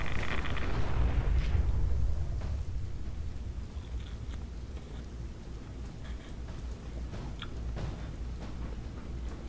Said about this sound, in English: Wait for it to explode.